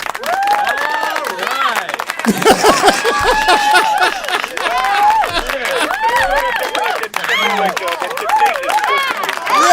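A small, thin scattering of hand claps rings out amid murmuring crowd noise and talk, loose and uneven rather than a full ovation.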